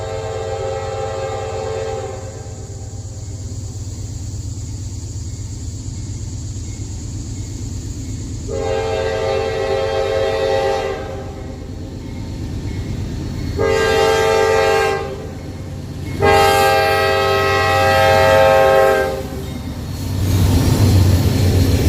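Norfolk Southern freight train rolling past with a continuous low rumble of wheels, while its horn sounds in several long blasts, the later ones louder and closer.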